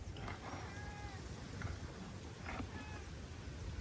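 A few faint cat meows rise briefly over a steady low rumble of background noise, spaced apart.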